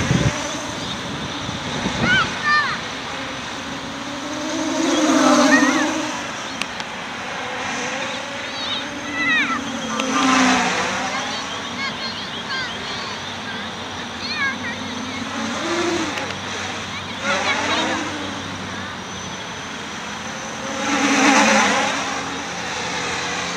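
Armattan quadcopter motors whining through an aerobatic acro-mode flight, repeatedly surging and dropping in pitch as the throttle rises and falls, sometimes close and loud and sometimes more distant, with a person talking over them.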